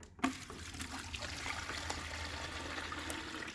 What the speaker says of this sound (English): I'm just going to tip the water in.